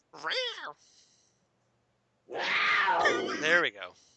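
Soundboard cat meows play at close range, one short rising meow followed after a pause by a longer, louder, wavering meow that ends in a brief second cry, with no talk over them.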